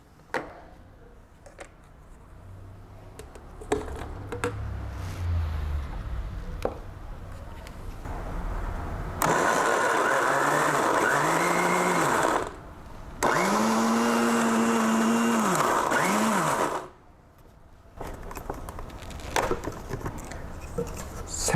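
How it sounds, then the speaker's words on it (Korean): A kitchen blender briefly grinds kiwi for making makgeolli, with clattering prep sounds first, then loud whirring motor runs whose pitch bends as the fruit catches, separated by short pauses. "믹서에 살짝 갈아주면 좋겠습니다."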